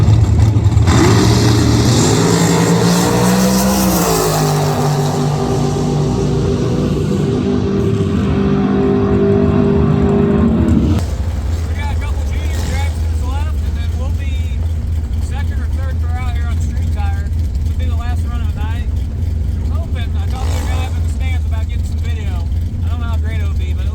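An offroad police car idles and revs at a drag strip. A loud, steady engine drone rises and holds for about ten seconds, then drops to a lower, rougher idle.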